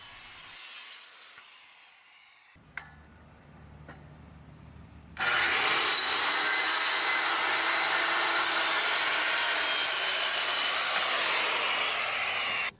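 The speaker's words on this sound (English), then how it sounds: "trim the joists so that they are all nice and straight" A power saw trimming wooden deck joists starts after a few quiet seconds with faint knocks, then runs as a loud, steady, close whine for about seven seconds before cutting off.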